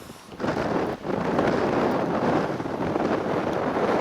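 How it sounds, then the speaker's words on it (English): Strong wind buffeting a camera microphone outdoors at the former Farmers Oval baseball grounds in Ridgewood, Queens, a loud continuous rumbling roar with a brief dip near the start, no voices. "Now unfortunately the wind's kicking up and I've got to turn the camera towards the wind"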